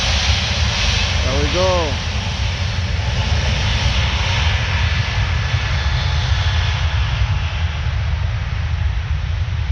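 A Wizz Air Airbus A321 jet on its takeoff roll at Paris Orly gives a steady, loud, broadband engine roar that holds for the whole stretch, with a brief spoken remark early on.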